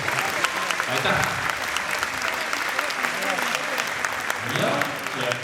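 Audience applause at a Latin dance championship final in Estonia, a crowd clapping briefly and steadily, with an announcer's voice heard over it.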